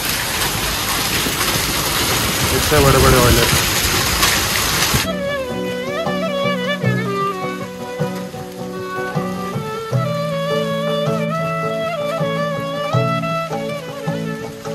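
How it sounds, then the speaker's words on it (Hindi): Heavy rain pours loudly for about five seconds while someone speaks briefly, then gives way to music. "बहुत तेज़ बारिश है"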